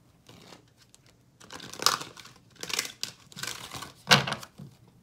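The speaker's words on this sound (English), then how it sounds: "Let me pull some romance angel advice cards for you guys and wrap it up." Angel advice cards being shuffled and pulled for a romance reading, giving several bursts of crisp papery riffling and flicking, with a sharp snap near the end, close and fairly quiet.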